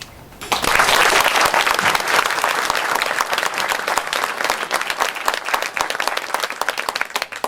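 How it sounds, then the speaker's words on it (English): An audience at a Madison County sheriff candidate forum breaks into loud, dense applause that starts abruptly and holds steady, close and continuous with no talk over it. "since we've clapped for everybody up here"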